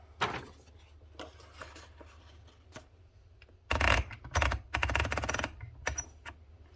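Clacking keys of a 1962 Olympia SF manual typewriter, a few isolated strikes at first, then quick bursts of rapid tapping, close and fairly quiet.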